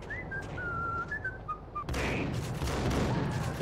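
Gunfire from the Max Payne video game breaks out as a dense burst of shots and impacts in the second half. Before it comes a stretch of whistled melody, and no voices are heard.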